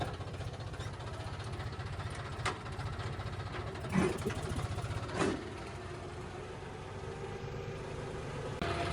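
A tractor engine idles steadily and close by, its low rumble continuous throughout, with a couple of brief clunks partway through. The tractor is being used to tow three other tractors.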